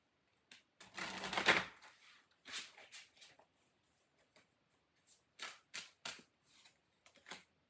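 Witch's Familiar Oracle cards being shuffled close by, a long riffling burst followed by several short papery flicks and taps with quiet gaps between them, and no talking.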